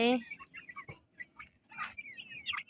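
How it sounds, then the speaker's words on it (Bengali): At dusk a few chickens give separate clucks and short calls while entering the coop, sparse and close, with quiet gaps between them. "আজ কিছু কিছু মুরগি বাইরে আছে, এখন পুরোপুরি ঢুকে নেই। অলরেডি সবাই ঢুকে যাচ্ছে, সবাই ঢুকে গিয়েছে।"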